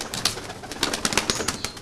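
Tumbler pigeons at a bird sale coo in short repeated bursts, fairly close, alongside occasional rustling, with no talk over them.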